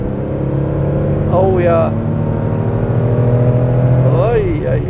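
A 1971 Porsche 911 2.2 T with 170 hp pulls hard under acceleration, its engine note loud and steady throughout as the driver speaks briefly over it.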